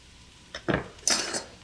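Evenly cut pieces scooped back into a bowl: a few quick, close clatters of utensil against dish, each brief and separated by short gaps, with no talking.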